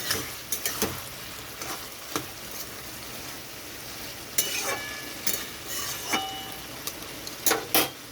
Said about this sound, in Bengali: আগে থেকে মশলা দিয়ে কষিয়ে নিয়ে তারপরে কচুর ডাঁটা দিতে হয়